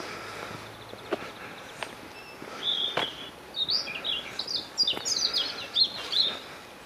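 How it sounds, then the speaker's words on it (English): Birds call and sing in trees beside a railway line, a run of bright chirps and trills rising and falling near and clear over a quiet outdoor background, growing busier in the second half. "Birds are singing nicely in the trees to my left."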